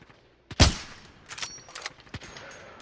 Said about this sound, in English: I hear gunfire behind us as well.